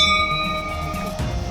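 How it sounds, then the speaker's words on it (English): Bear bells hung along a wooded hiking trail in Japan ring with steady sustained metallic tones, a bright shimmering chime that fades, followed by a low rumble and faint rustle near the end. "a few so-called bear bells put out to alert any in the area"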